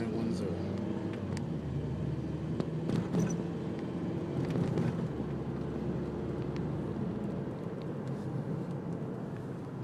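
A turbocharged Scion xA drives along, its engine a steady low drone with road and wind rumble filling the cabin. A voice talks over it almost the whole time.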